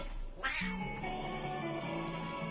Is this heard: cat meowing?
yes